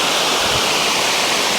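Somersby Falls after floods pours in a loud, steady, close roar of rushing water that fills the whole moment without change.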